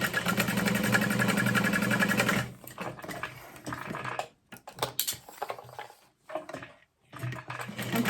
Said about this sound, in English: So I'm going to sew these top panels together.